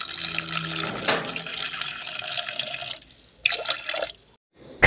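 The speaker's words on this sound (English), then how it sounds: "Add water." Water is poured into a cooking pot holding sliced carrots and apple, a steady close splashing fill for about three seconds, then brief further splashes and clatter.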